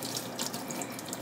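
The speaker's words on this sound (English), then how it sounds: "I'm washing my hands." Water runs from a tap into a sink while a child washes their hands, a steady close splashing stream with no voices during the moment.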